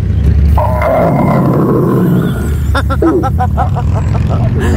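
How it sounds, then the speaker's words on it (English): A talking bear statue in Oakhurst, California plays a recorded roar: a loud, rough growling roar fills the clip over steady background noise, with a person's voice briefly heard near the end. "Okay, I gotta hear this roar."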